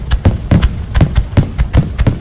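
Shells launch from tubes during a fireworks finale, a fast series of deep hollow thumps and booms about every quarter second, loud and close, with no talking.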